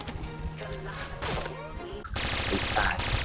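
Video game gunfire in a hectic shooter: dense bursts of rapid shots and impacts over a busy game mix, with a brief dropout before a louder, fuller stretch of firing near the end.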